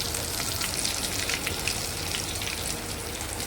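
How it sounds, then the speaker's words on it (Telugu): Aloo bonda deep fry in hot oil with a steady, dense, crackling sizzle like fine rain, moderately quiet and continuous throughout, with no voices. "చూడండి ఇలా అన్నిటిని కూడా డీప్ ఫ్రై చేసేసుకున్నాం"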